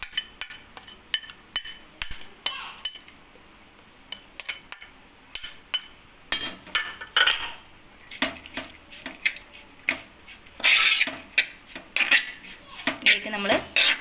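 Ground coconut paste going into a cooking pot for a Kerala sardine peera dish, with crushed garlic, ginger, green chili and shallots already in, heard as repeated clinks and scrapes of a spoon against metal, close and intermittent, with no talk.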